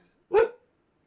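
One short, sharp dog bark rings out close by, with silence on either side.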